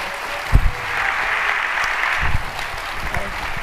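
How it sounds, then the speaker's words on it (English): An audience at a Destination D23 2021 Disney World panel applauds George, Debbie and Peggie, with sustained clapping at moderate volume under a few thumps and brief voices. "Everyone, please give a big round of applause again to George,"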